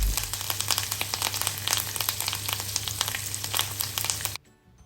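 Lamb chops fry in a hot pan for honey ginger lamb chops, their fat rendering with a steady, close crackling sizzle and popping spatter that runs unbroken until it cuts off abruptly near the end.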